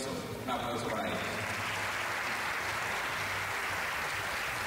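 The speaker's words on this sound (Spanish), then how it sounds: "Un aplauso para ellos." An audience at a stage play applauds, a steady, dense wash of clapping that carries on for several seconds, with some speech mixed in at the start.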